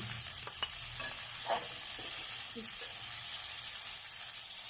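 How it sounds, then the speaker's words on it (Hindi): Okra, onion and tomatoes stirred with a spoon while frying in oil over high heat: a steady, bright hiss of sizzling throughout, with a few faint spoon scrapes and clicks beneath it. "इसको भी आपने ऐसे ही दोनों चीज़ों को थोड़ा थोड़ा चम्मच चलाते हुए ना फ्राई करना है।"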